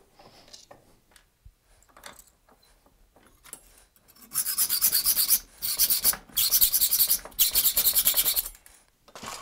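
A hacksaw cuts through the tops of metal bolts, with quiet handling clicks at first, then loud rhythmic rasping strokes in bursts with short pauses between them.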